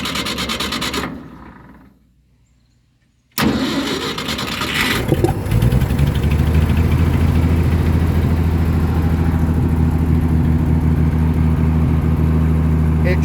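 A small engine on a Chuck n Duck unit starts after a quiet pause and settles into a loud, steady running drone that fills the rest of the clip.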